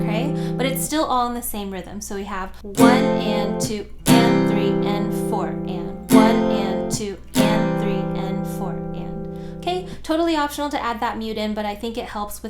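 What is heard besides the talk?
No everyday noises stand out.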